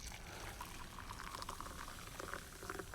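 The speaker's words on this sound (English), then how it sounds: "there's exactly measured 300 mils of boiling water" Boiling water, a measured 300 ml, poured over bicarbonate of soda for a sticky toffee pudding, giving a steady close hissing, bubbling liquid wash that runs unbroken throughout with faint splashy flickers.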